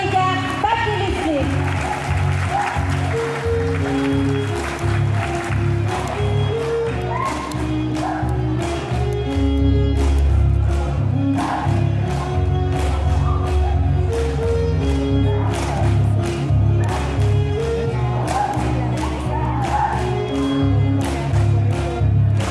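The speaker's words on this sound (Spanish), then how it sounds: "Recibamos con fuertes aplausos a la cuadrilla Paquilistli." A crowd at a costumed dance troupe's unveiling claps and cheers throughout, dense sharp claps over a continuous low, strong musical or drum tone, with a loud hum underneath.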